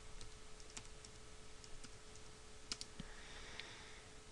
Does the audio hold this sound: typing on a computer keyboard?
yes